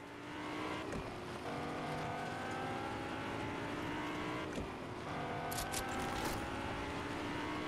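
A car drives through Fortnite, its engine giving a steady, continuous hum with a few brief clicks on top and no one speaking.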